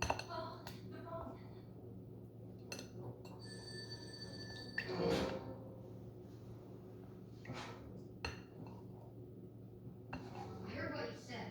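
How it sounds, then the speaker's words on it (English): A telephone gives one short electronic ring in a kitchen where dishes and cutlery clink, with people talking over the clatter before and after it. "Oh, the phone."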